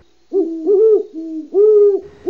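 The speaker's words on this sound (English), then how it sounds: "Many people have heard the call of a great horned owl and will recognize its low, soft hooting sound." Great horned owl giving its low, soft hooting call, a series of about four deep, resonant hoots in a clean, close recording with brief gaps between them.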